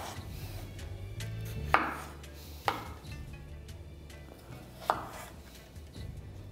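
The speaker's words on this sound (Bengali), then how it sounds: "আর পটলটা কাটা হয়ে গেলে আমি এখানে কেটে নিচ্ছি আলু" Potatoes are cut into pieces with a knife, giving three sharp, separate knocks on a cutting board spaced a second or two apart over a low, steady background hum.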